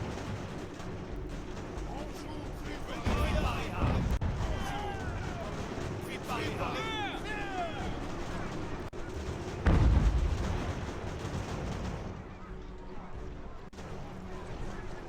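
Musket and artillery fire on an American Revolution battlefield in Ultimate General, a constant rumbling din of distant volleys with heavier booms around a few moments, while someone talks over it.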